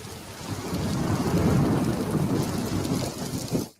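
Steady heavy rain pours on surfaces while thunder rumbles low throughout, with no voices, then fades out at the end.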